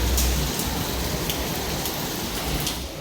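Heavy tropical rain pours down at the old port of Batavia in Jakarta in a dense, unbroken roar, with occasional sharper splashes and a low rumble beneath.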